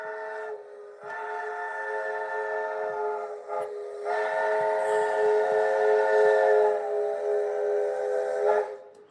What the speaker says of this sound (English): Oh, you hear that whistle?